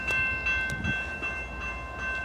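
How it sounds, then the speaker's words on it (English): Freight train rolling slowly out of a rail yard in Baldwin, Florida, a loud, steady rumble with bright tonal squeal and faint clanking, heard close. "Here comes the train. It's moving pretty slow out of the yard,"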